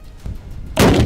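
Launcher firing a round during military training: one sharp, loud blast arrives near the end, following a brief stretch of low rumbling background.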